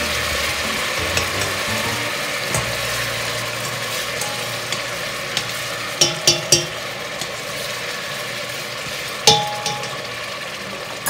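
Spanish sofrito cooking in a pot, giving a steady close sizzle with a low hum beneath and a few sharp clinks of a utensil against the pot partway through.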